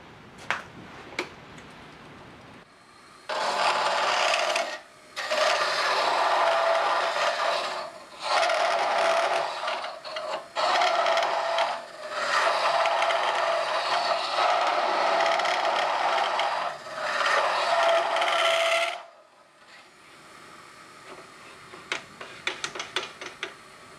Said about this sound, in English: We're going to move on to a little more aggressive cutter to take out some of the side wood.